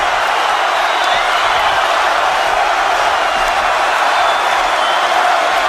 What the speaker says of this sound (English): Crowd can't get enough of it.